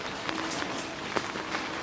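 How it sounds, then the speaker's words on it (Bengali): Steady broadband hiss of monsoon rain falling around a house, with scattered soft patters and drips, no voices. "লাগাতার তিন চার দিন ধরে বৃষ্টি হচ্ছে"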